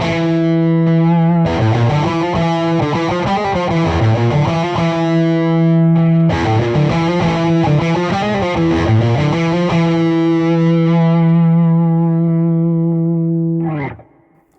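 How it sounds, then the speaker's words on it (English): PRS Chleo electric guitar played on its treble pickup through the lead channel of an Archon amp: a loud, distorted sustained riff with repeated chugging phrases, a pause near six seconds, then a long held chord ringing out before cutting off. "let's go and hear that riff again through the lead channel of the Archon"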